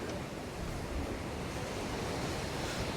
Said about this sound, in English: Some of the epic waves.